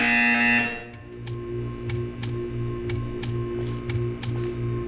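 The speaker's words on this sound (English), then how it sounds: "You will hear a buzzer. When you hear the buzzer, stare at the art." In the video game Portal 2, a blaring alarm tone cuts off and gives way to a series of short, evenly spaced buzzing pulses over a low, steady electronic hum.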